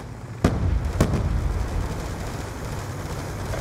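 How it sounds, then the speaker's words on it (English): Hellstorm missile explosions in a Black Ops 2 hardcore headquarters match: two sharp blasts land about half a second apart, followed by a long, loud rumbling roar of detonations that fills the rest. "Friendly Hellstorm missile inbound."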